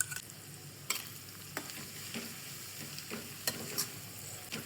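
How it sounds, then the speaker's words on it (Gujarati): Cabbage sautéing in oil with chillies and spices, a soft continuous sizzle with intermittent spoon scrapes and clicks, fairly quiet and close, no voices. "કોબીજ એક તેલમાં સાંતળીએ"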